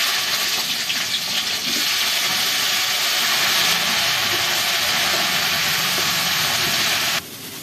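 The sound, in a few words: cauliflower frying in oil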